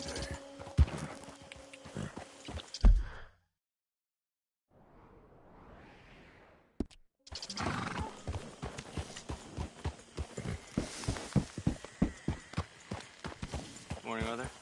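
Horse hooves clip-clopping in Red Dead Redemption 2, a rapid, close run of clopping steps after a short quiet gap, with voices heard earlier in the scene.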